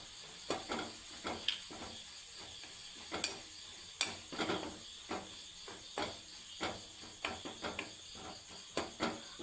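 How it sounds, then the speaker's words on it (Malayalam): Crushed chili frying with onions in hot oil for a Kerala dal and drumstick-leaf dish, a soft steady sizzle with regular scraping stir strokes, close, quiet and without talking. "മുളകും ഒന്ന് മൂപ്പിച്ച് വരണം"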